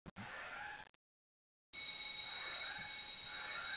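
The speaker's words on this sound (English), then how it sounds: "That would simulate the smoke detector going off." A high electronic smoke detector alarm tone sounds, cuts out to silence, then resumes as a steady piercing beep, fairly faint.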